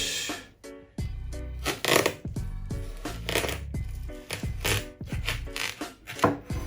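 A knife slices through a watermelon in a series of close, crunchy chopping strokes with short pauses between them, loud and uneven, with no talking.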